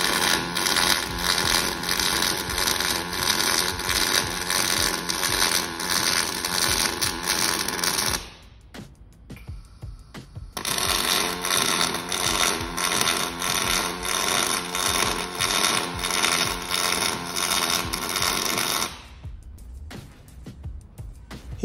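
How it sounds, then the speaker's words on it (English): A collaborative welding robot lays a circle weave on a steel bumper, a loud, close, buzzing crackle that runs for about eight seconds, pauses briefly, then resumes for another eight before stopping. "the cobot will put another circle weave vertical down in this corner and then two more identical step weaves"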